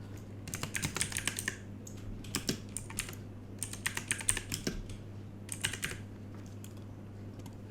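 Clicky typing on a computer keyboard as text is entered, short irregular runs of keystrokes separated by brief pauses over a steady low hum, close and fairly quiet with no talking.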